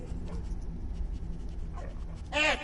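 Dog companion in the video game Skyrim whimpering and yipping, a short high-pitched cry near the end over steady low game ambience and background rumble.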